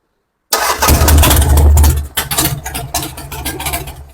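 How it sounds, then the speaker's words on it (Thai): A stalled engine fires up the moment the starter is wired directly, bypassing the start button, then catches with a loud, close rumble that settles into a rough idle. "อ่า นี่คือการต่อตรงมันไดร์ตาต้องทำงานปกติแบบนี้"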